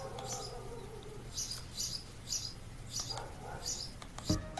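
A small bird chirps in a series of short, bright calls spaced about half a second apart, fairly faint over a steady low room hum, with no one speaking.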